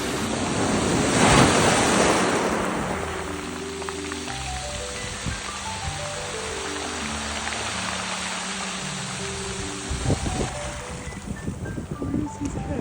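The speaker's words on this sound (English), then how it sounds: "And the water just came in on my feet." Ocean waves wash in on the shore and swirl around the feet in a steady, close rush of surf with some wind, while soft background music plays along.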